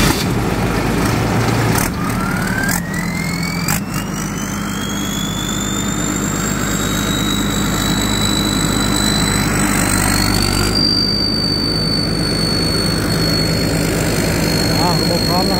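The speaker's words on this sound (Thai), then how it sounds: "อดใจรอสักครู่ครับเดี๋ยวจะได้ฟังน้ำเสียงของเจ้าเครื่องยนต์ฮีโน" A Hino diesel engine on a rice combine harvester runs steadily and loudly, with a rising whine as it spools up and a sustained high tone over the rumble, close by and without talk.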